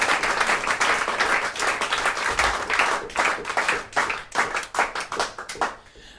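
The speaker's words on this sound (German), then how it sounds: "Nochmal einen riesen Applaus für Abend." A concert audience breaks into loud, dense applause that runs steadily, then thins out and fades to a few scattered claps near the end.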